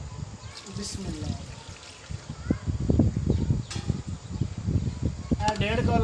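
Water pours into a pot of roasted chickpeas for a village-style chana pulao, a bubbling trickle and sizzle running steadily while someone talks over it.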